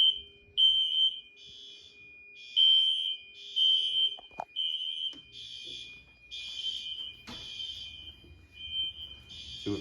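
ESC Genesis security system alarm siren sounds in repeated shrill electronic beeping bursts, with a steady tone underneath, a sharp click midway and faint handling noise, fairly close and with no talk.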